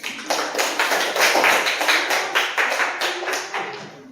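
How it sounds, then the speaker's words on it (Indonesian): A classroom group claps in a quick, steady rhythm of sharp hand claps, a dozen or so distinct beats spread over about four seconds, close and fairly loud with no talking. "Oke, silakan duduk, tepuk tangan untuk Tania."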